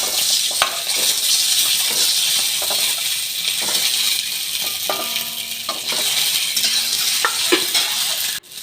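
Boiled eggs frying in oil in a wok, a constant loud sizzle with scraping stirs and occasional clinks of the spatula against the pan.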